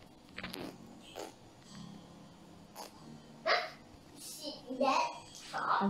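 A dog in Roblox barks and yips in short scattered bursts, faint to moderate, mixed with someone talking nearby.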